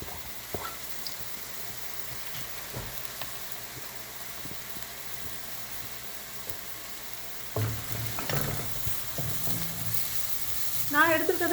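Green chilies and curry leaves sizzle in coconut oil over a high flame, a steady frying hiss broken by occasional stirring clinks and a louder burst of sizzle late on.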